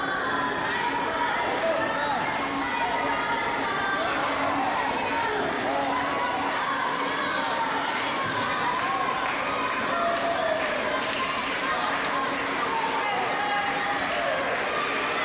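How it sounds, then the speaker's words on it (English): A wrestling crowd roars and cheers for the champion at an AMW event, a loud, dense wall of shouting and whistling that holds throughout, with a commentator talking over it. "Crowd cheering on the champ."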